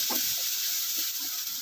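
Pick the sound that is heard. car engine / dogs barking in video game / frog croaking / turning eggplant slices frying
turning eggplant slices frying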